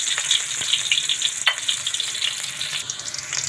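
Chopped onion fries in a pan with a steady, close crackling sizzle and small pops, no voices.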